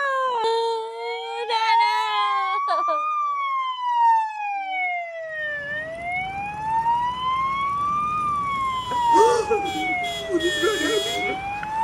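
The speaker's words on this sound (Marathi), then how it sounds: "ना पोलीस गाडी" A police car siren wails loud and close, sweeping slowly up and down in pitch in a steady continuous cycle, with some rumbling traffic noise underneath.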